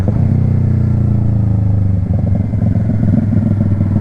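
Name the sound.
Yamaha R3 motorcycle with M4 Street Slayer exhaust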